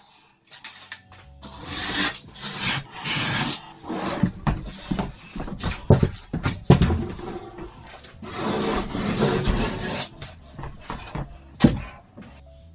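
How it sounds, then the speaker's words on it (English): Plasterboard being scored with a blade and snapped during bedroom renovation, a series of close scraping and rasping strokes with sharper knocks and cracks at irregular intervals, loud and alone. "plasterboards are scored on one side first, then snapped along the cut, and finally cut through inside a freshly created corner"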